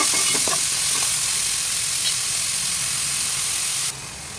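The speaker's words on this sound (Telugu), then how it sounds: "ఇప్పుడు కట్ చేసిన అలసందులు దీనికి వేస్తున్నాను కలుపుకోవాలి" Cut cowpeas (black-eyed peas) go into browned onions in a hot pan for curry, giving a loud, dense, continuous sizzle with a few scraping stirs early on, dropping slightly near the end.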